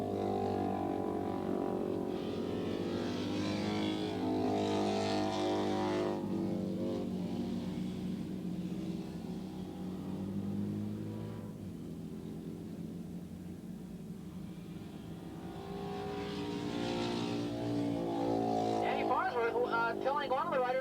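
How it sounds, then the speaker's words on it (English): Racing motorcycles, including a Harley, a Norton and a Ducati, pass on the track at Willow Springs during a 1986 Battle of the Twins race. A steady engine drone swells and fades under continuous race commentary. "He signals 96. Bill Bartels on the Harley to go around him."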